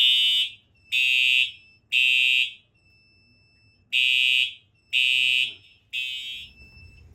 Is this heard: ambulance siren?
no